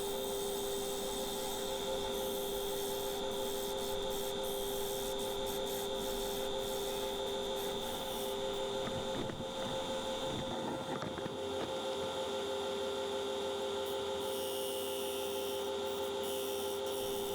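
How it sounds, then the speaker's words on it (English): A walnut bowl spins on a wood lathe while the tool thins its side wall. There is a continuous whirring hum with a steady rasping scrape, some brief rougher scratching midway, and no talk. "So here I'm working on getting the side of the bowl thin enough that I cut away those flat spots"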